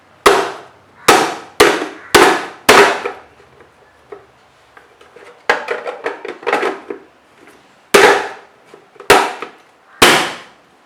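A Nicer Dicer vegetable chopper slams down on an onion, giving a series of loud, sharp close thuds, five in quick succession, then a rattling cluster of smaller knocks, then three more hard strikes.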